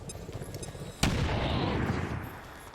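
A frag grenade detonates in XCOM 2, a sudden sharp blast that rolls into a sustained, loud rumbling wash of debris lasting a couple of seconds before tapering off.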